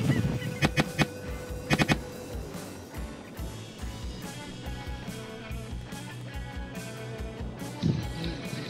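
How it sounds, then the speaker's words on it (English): Snow geese honk in a noisy flock, sharp repeated calls bursting out over a steady background of many birds calling at a distance. "Snow geese in front,"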